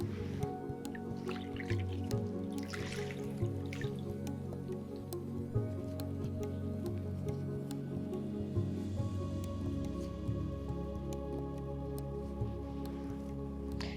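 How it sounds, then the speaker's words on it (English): A wrung-out washcloth drips and trickles into a basin during perineal care, soft close splashes and drops scattered irregularly over a low steady background hum, with no voices. "We'll take another washcloth and wring it out over the basin."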